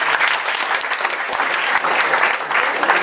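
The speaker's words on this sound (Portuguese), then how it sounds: "Aplausos, por favor." Dense applause from a school audience fills the room, a steady wash of many hands clapping loudly and close, with no break from start to finish.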